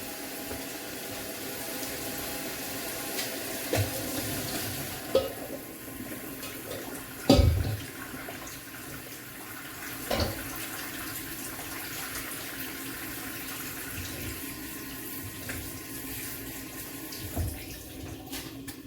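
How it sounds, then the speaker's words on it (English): Cold tap water runs steadily into a kitchen sink, rinsing freshly cooked chickpea pasta, with a constant close splashing rush and a few brief clunks and knocks of handling along the way. "And I'm going to rinse them off with some cold water."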